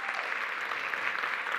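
Steady round of applause from a gathering of community members at a school district listening session, an even wash of clapping throughout.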